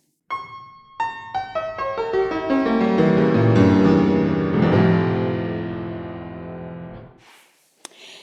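A fortepiano is played with the dampers raised by the right knee lever, so notes and chords ring on and blur into a sustained, swelling wash that slowly decays, followed by a brief rustle and a click near the end.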